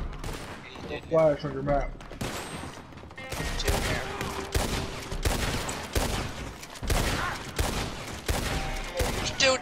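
Gunfire in the Red Dead Redemption 2 video game, a series of sharp loud shots spaced irregularly across the stretch, with people talking between and over them.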